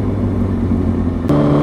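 A motorcycle ridden toward mountain trails near San Bernardino, a loud close engine drone with steady low rumble and a slight rise in pitch at the end.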